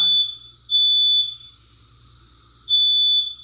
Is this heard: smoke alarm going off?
yes